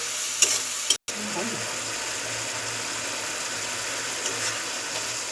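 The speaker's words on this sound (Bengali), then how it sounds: "শুটকিটা আমি এখন সুন্দর করে কষিয়ে নিব।" Dried boal fish shutki frying in a pan, a steady, close sizzle with light stirring scrapes and a momentary dropout near the start.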